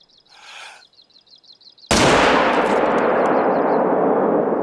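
Birds chirp softly before a single loud rifle shot cracks at a bull moose about 190 yards away in The Hunter: Call of the Wild's Yukon, then its long rumbling echo fades slowly.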